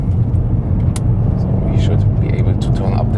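A 2019 BMW M5 G30 engine drones steadily and loudly as the car accelerates, a low rumble that holds under someone talking in the cabin.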